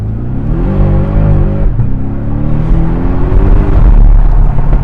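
A Porsche Boxster's four-cylinder single-turbo engine revs loudly and close, its pitch climbing, dipping briefly, then rising again in a steady drone with no voices.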